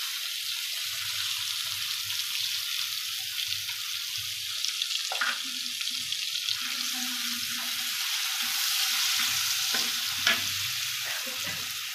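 Finely chopped beans cooking in a pan for a vegetable chop recipe, a steady sizzling hiss with occasional stirring scrapes and clinks, close and continuous.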